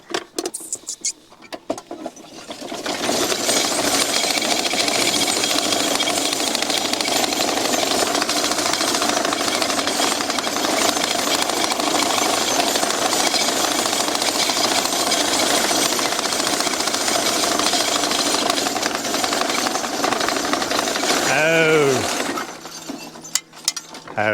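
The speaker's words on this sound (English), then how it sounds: "So another thing it does is this mowing, the hay will drop right on the cutter bar." A cutter bar on a hay mower pulled by draft horses rattles loudly as it mows hay, a fast, continuous clatter that runs for about twenty seconds and then stops.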